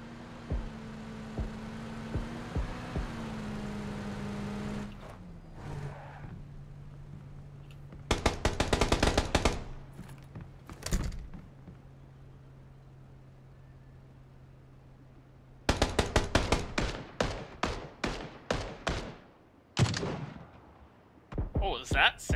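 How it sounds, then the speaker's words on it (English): Rapid bursts of gunfire ring out in PUBG, an M24 sniper rifle among them, in two loud clusters separated by a steady vehicle engine hum; no speech is heard. "That's the M24. It's a very heavy sniper rifle."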